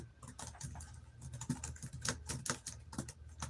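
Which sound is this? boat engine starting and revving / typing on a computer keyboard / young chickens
typing on a computer keyboard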